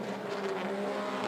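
Mini stock race cars running at 411 Motor Speedway, a steady blended engine drone from the pack at moderate distance, continuous through the short moment with no voice over it.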